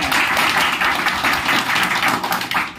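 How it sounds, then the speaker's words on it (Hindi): An audience claps in a dense, continuous burst of applause for an honoured guest at a marketing meeting, loud and close for the whole stretch. "वाघेला साहब के लिए जोरदार ताली दीजिए हमारे साथ"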